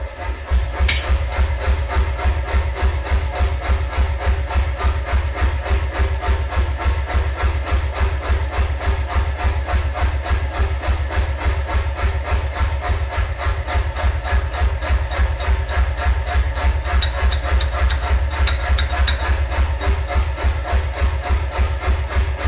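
Knife with an edge sharpened at 16 degrees per side (32 degrees total) chopping through a nail, a steady, loud, rapid rasping rhythm that repeats without a break for over twenty seconds.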